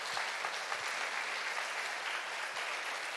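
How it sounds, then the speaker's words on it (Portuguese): A church congregation clapping loudly for Jesus during a sermon, steady continuous applause with a few sharper individual claps and no voices. "Você pode aplaudir Jesus bem forte?"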